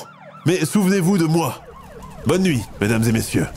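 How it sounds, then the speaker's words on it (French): Wailing sirens of police cars and fire engines at night near a burning house, rising and falling in repeated sweeps while someone speaks over them. "on peut entendre de loin les sirènes des voitures de police et des pompiers"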